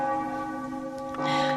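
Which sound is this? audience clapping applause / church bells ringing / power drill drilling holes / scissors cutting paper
church bells ringing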